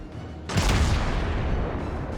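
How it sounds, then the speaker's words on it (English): Main battery guns of a battleship firing in World of Warships, a single heavy boom that breaks in suddenly and rolls on as a dense, sustained rumble, loud and close. "he's firing at them with his main battery guns"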